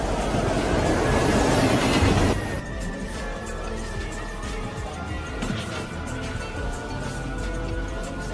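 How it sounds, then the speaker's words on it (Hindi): Train approaching in a Hindi-dubbed Boruto anime scene, a loud rushing roar that cuts off sharply, then rumbling wheels, clatter and a sustained metallic squeal continue near and steady. "वो आ रहा है, ट्रेन आ रही है।"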